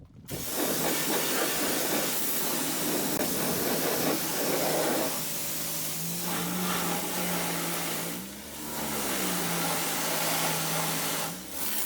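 A power washer sprays the interior of a 1991 Honda Civic EF hatchback, making a loud, continuous hissing roar with a low steady hum underneath that dips briefly near the end.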